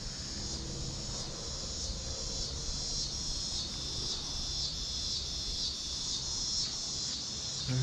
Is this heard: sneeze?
no